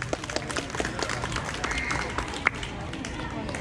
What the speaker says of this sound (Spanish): Venga, las palmas.